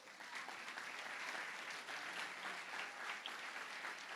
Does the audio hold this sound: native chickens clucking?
no